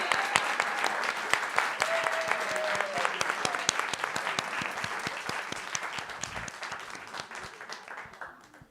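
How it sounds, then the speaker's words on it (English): Sustained applause from a church audience at a Sunday service pageant, dense clapping that stays steady and fairly loud throughout, with faint crowd murmur and a brief tonal sound partway through. "Let's give a round of applause to all of our pageant characters."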